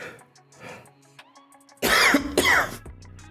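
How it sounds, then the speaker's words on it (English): A person coughs and sneezes at once, a sharp, loud burst, with quieter throat sounds before it. "I was trying to cough and sneeze at the same time"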